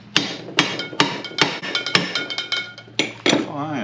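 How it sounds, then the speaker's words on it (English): Hammer tapping a 2 1/4 socket into a control arm on a 1978 K5, about a dozen ringing metallic strikes in an uneven rhythm, close and loud, with a brief voice near the end. "I've got this socket. This is a 2 1/4, and I'm just gonna gently tap this in."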